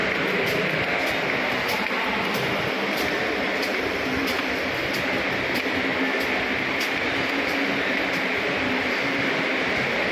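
A Kolkata metro train hums and rumbles steadily at Park Street station, a loud continuous roar of the train and station machinery with no speech over it.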